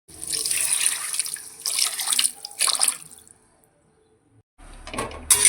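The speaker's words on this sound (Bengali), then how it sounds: "এবার এর মধ্যে দিয়ে দেবো গরম জল।" Hot water pours into a pan of fish curry in a few short splashing bursts, separated by a quiet pause before a final pour.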